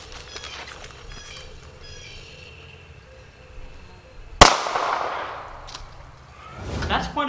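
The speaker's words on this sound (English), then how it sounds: "M150 now, under the board. Just a bigger firecracker, pretty much." An M150 firecracker goes off under a board with one sharp, loud, close blast midway, followed by a decaying crackle and rumble after a stretch of quieter background.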